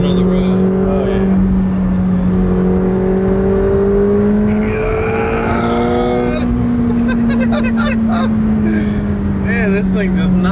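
A McLaren supercar pulls hard under acceleration, its engine note climbing in long rising tones through gear changes, loud and close from inside the cabin.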